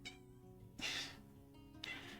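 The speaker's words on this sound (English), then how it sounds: "my cat is trying to get attention" A pet cat meows twice for attention in a quiet room, the two calls a second apart and moderately close.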